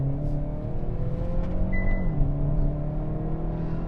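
A 2022 Hyundai Veloster N's turbocharged engine hums steadily with a sharp gear change partway through, the pitch dropping as the exhaust note shifts and crackles.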